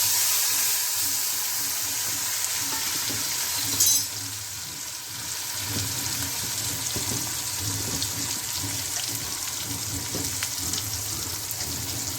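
Cumin and tomatoes fry in a pan for sev tameta shaak, a steady close sizzle throughout with a brief louder burst as the tomatoes go in, then continuous hissing and spattering.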